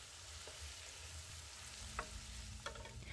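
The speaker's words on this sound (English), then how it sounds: "Listen to that sizzle, you guys." Vegetables for an Ethiopian cabbage dish sizzle in a frying pan, a soft, even hiss with occasional small clicks and spatters, no voices.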